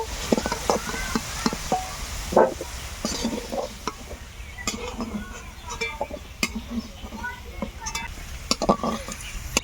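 Potatoes stirred and fried in a kadai with a little turmeric make a close, busy rhythm of spatula scrapes and clinks against the pan over a continuous low sizzle, with no talking.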